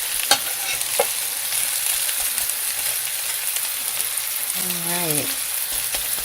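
Lentil burger mixture and bell pepper vegetables frying in a pan, a continuous loud sizzle with scraping stirs throughout and a short spoken word near the start.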